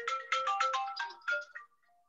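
A phone ringtone plays a quick bright melodic chime of about eight rapid notes, then fades into a soft trailing tone, alone and clear, just before a Zoom meeting.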